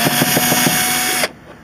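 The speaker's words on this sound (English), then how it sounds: "get your screwdriver or drill with Phillips head, go up here, take them off" A power drill with a Phillips bit whirs close by, removing taillight screws on a 2007-2011 Honda CR-V, in one continuous burst, pulsing slightly as it turns, then cuts off abruptly.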